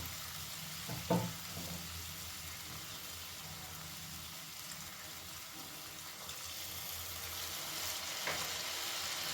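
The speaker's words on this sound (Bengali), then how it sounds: "ভালো করে এবারে সমস্ত কিছু একসাথে কষিয়ে নেব।" Masala mixed with cashew and melon seed paste and a little water sizzles and fries in a pan, a soft, continuous hiss with a couple of faint scrapes from stirring, heard alone at low volume.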